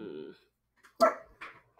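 A dog gives two short, sharp barks indoors, one after the other, following a moment of quiet after a brief voice.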